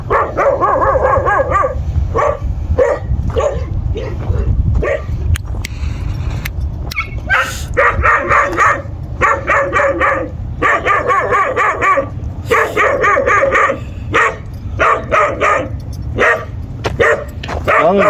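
Several Kangal shepherd dogs guarding a flock bark loudly and repeatedly, overlapping in irregular bursts with a few higher yips, close by over a steady outdoor rumble throughout.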